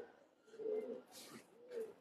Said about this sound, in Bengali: আরেকটা মাদি কবুতর দেখেন, অনেক বড় সাইজের, চোখে লাল দানা আছে